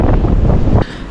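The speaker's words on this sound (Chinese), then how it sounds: "顶着外面那个8、9级的大风" A force 8–9 gale at a campsite in Nalati roars as a heavy, buffeting rumble against the microphone, then drops abruptly to a lighter rush near the end.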